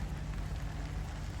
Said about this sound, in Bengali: রহমতের বৃষ্টি শুরু হয়ে গেছে।